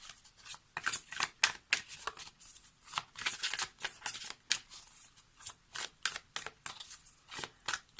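Oracle cards being shuffled by hand during a tarot-style reading, a steady series of soft riffling flicks and slaps in quick rhythmic bursts, close and quiet, with no talking.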